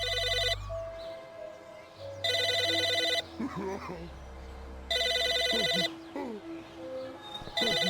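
An old telephone bell rings in the video game Psychonauts, coming in three loud separate bursts. Game character voices and sounds fill the gaps between the rings.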